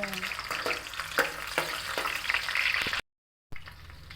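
Onions dropped into hot oil in a pot for a Burmese pork and prawn stir-fry, sizzling and crackling steadily up close, with occasional clinks of a utensil stirring.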